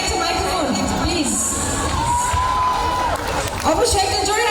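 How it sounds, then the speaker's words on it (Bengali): An audience at a live stage show cheers and shouts loudly, a dense roar of voices with whoops rising and falling throughout. "শাহিনের জন্য একটু জোরে হাততালি।"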